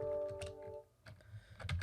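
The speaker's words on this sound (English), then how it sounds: "I'm going to type in install, hit the tab, and then backspace" Keys on a computer keyboard are tapped in a few quiet, scattered clicks with brief gaps, faint and close.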